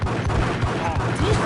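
Gunfire in the Max Payne video game, a rapid burst of repeated shots in quick rhythm, loud and close, with game voices mixed in.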